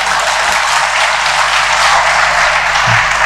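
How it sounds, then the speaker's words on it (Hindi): Audience applause at a Gayatri Pariwar talk, a dense, steady wash of many hands clapping that fills the whole moment without a break and masks any other sound. "ताली मारो,"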